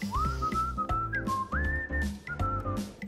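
A bright melodic whistle glides and holds pitch over a rhythmic musical backing with deep beats, sliding up and down between sustained notes, loud and close.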